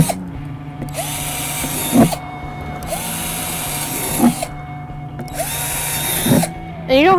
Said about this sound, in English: And then you're going to drill holes in the top